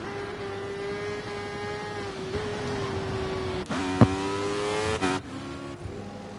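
A racing motorcycle at a Thundersport pre-season test at Kyalami pulls a wheelie down the back straight, its engine a loud sustained high-revving whine that climbs through gear changes with a sharp shift blip partway.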